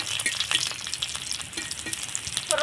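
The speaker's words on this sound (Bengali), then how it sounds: "গোটা সর্ষে কালো আর একটা শুকনো লঙ্কা আর কিছুটা পরিমাণে দিয়ে দেবো কারি পাতা আর নাড়াচাড়া করে ফোড়নটা আমি ভেজে নেবো" Mustard seeds, a dried red chili and curry leaves fry in hot oil for a tempering, giving a steady close crackling sizzle with quick spatters and light stirring throughout.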